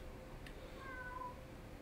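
A cat meows a couple of times in The Sims 4 video game, short and fairly faint over a quiet background hum.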